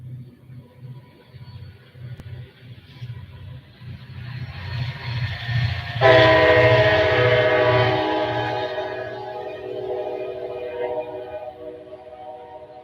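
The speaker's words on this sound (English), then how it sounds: "here comes a train." A train rumbles closer with a low rhythmic clatter, then a loud horn blares and holds for several seconds before fading as the cars roll by.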